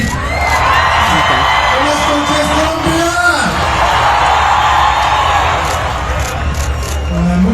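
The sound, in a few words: large crowd cheering in Colombia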